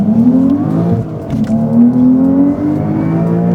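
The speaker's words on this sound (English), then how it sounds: "sounds nice with the sole valved exhaust" A modified Porsche 992 Carrera S engine drones loudly and steadily, its pitch rising and falling as it revs, with a deep note from a valved exhaust and high-flow cats close by.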